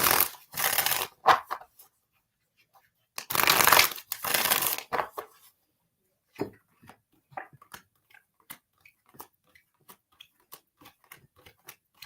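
Cards are riffled in two loud, fast bursts during a psychic card reading, followed by a string of sharp, evenly spaced taps and flicks as cards are handled.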